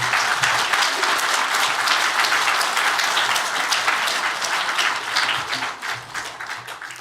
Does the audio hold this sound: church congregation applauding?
yes